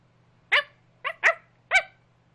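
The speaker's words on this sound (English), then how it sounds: "Sounds like a puppy." A puppy barking inside a house: four short yappy barks, one lone, then a quick pair, then one more, over a faint steady hum, fairly clear rather than distant.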